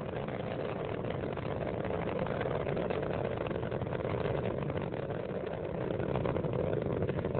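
Space Shuttle Endeavour's three liquid-fuel main engines roar during launch, a continuous, dense rumble with no breaks, muffled and distant, with no voices.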